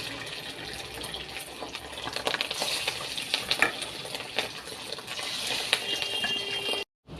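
Fish roe fritters frying in hot oil in a wok, a steady close crackling sizzle with bright spitting bursts that continues throughout before cutting out briefly near the end.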